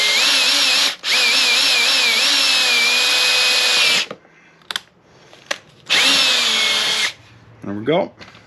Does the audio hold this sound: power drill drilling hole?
yes